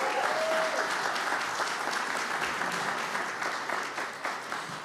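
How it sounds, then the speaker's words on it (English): An audience at a college alumni awards ceremony gives a sustained round of applause, dense and steady at first, then gradually thinning and fading. "Can you give them a round of applause, please?"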